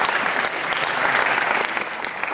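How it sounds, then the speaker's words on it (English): An audience at a talk gives the Shalom Institute a big round of applause, a dense, continuous wash of many hands clapping, steady and full without pauses. "Please give the Shalom Institute a big round of applause."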